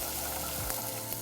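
Garlic and onions browning in olive oil in a pan make a continuous close hiss and crackle, even and unbroken throughout.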